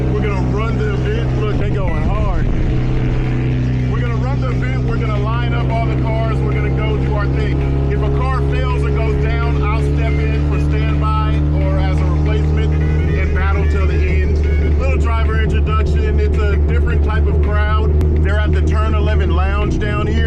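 Drift cars at a Sonoma Raceway drift demo roar under hard driving, one being a 400hp FC3S RX7. The engine noise is loud and sustained, with revving swells and a shift in pitch partway through while people talk over it.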